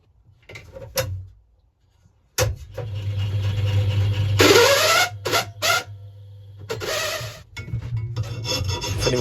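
A hand file rasps close up across a workpiece in irregular strokes, with short gritty scrapes, a quiet pause, then a run of louder, longer filing passes.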